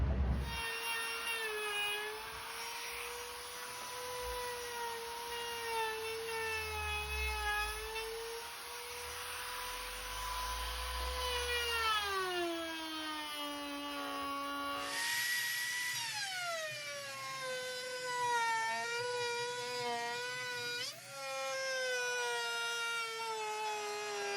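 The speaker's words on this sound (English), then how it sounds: "Gonna finish the bottom edge with a 45-degree chamfer just on my little old guy laminate trimmer." A small laminate trimmer cuts a 45-degree chamfer along the bottom edge of an industrial end table, giving a loud, steady high whine whose pitch sags under load and then rises again, running continuously with no talk.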